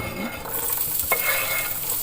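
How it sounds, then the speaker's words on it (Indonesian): Chicken pieces refry in hot oil for Korean-style crispy chicken, a steady close sizzle with a brief stir or clink partway through and no voices. "ayamnya kita akan goreng lagi supaya crispy"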